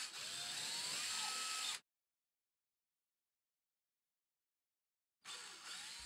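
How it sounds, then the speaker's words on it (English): An electric power drill with a 1/4-inch bit whines in two short bursts separated by silence, high-pitched and close, drilling holes in a wall for anchors. "Drill the holes using a 1/4-inch drill bit."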